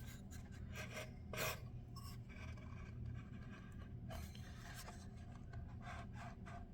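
A wooden dowel slides and rubs into a drilled hole in a wooden toolbox, giving a steady scraping rasp with a few brief louder pushes over a low background hum.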